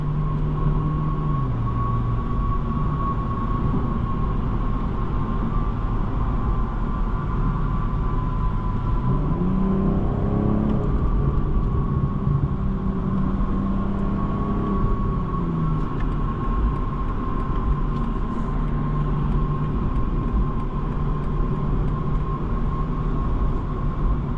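Steady low road and tyre rumble fills the cabin of a 2026 BMW M240i xDrive on the move in Sport Plus mode, with a faint engine drone that rises and falls; no talking is heard.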